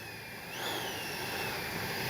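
An FMS 80mm F-86 Sabre RC model jet with an electric ducted fan whines steadily, a high, rising and falling tone over broad airy rush, moderately distant and getting slightly louder.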